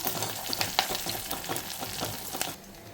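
Pieces fry in a pan with a dense, continuous sizzle, close and loud, broken by a few spatula scrapes and clinks before the sound drops off near the end.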